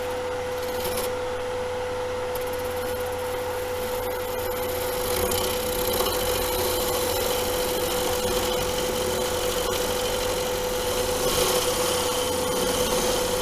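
A wire brush scrubs across wood to give a sandblasted texture, a continuous loud abrasive rasping with a steady tonal whine underneath, close and uninterrupted throughout.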